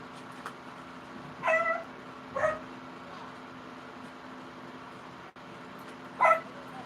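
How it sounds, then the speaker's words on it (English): A neighborhood dog in a village in Wareham, Massachusetts barks three short, faint times from a distance, with long pauses between barks over a quiet outdoor background and no talk. "Dog doing dog's duty, barking."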